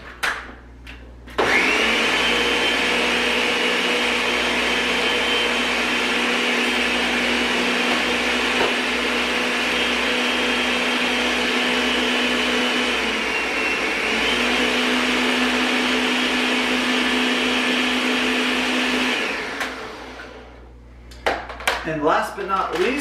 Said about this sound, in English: And blend that up.